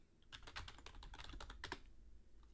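A computer keyboard clatters as an email address is typed in, a close, rapid burst of keystrokes lasting about two seconds before it stops.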